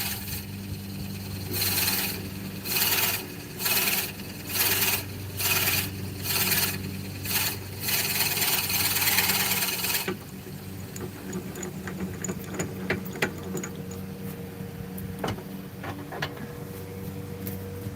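A cedar blank for an Orion fountain pen is worked on a lathe: about eight rhythmic rasping strokes for ten seconds, then quieter scattered clicks and scrapes.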